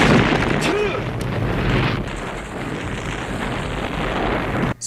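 A fireball explosion in the Rambo: First Blood Part II video game, heard as a loud, dense roaring blast that runs steadily for several seconds before cutting off abruptly.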